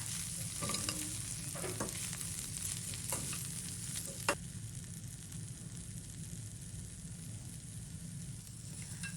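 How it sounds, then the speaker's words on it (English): Green peas chundal with green mango and shredded coconut sizzles steadily in a pan, with a soft continuous frying hiss broken by a few light spoon scrapes and taps as it is stirred. "Add the green mango and some shredded coconut. Cook for a minute."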